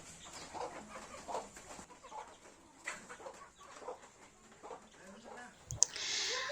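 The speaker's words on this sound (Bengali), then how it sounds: "আমি মুরগিগুলোকে আবার খাবার দিয়ে দিলাম" Chickens on a rainy village morning cluck softly and intermittently as they are fed, faint and close with light clicks and scattered pecking, ending in a brief burst of hiss.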